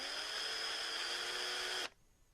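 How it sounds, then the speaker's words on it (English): A small power drill bores a hole near the top of a plastic candy dispenser, giving a steady high-pitched whine for about two seconds that stops abruptly. "we need to drill a hole about 1/4 inch down from the top"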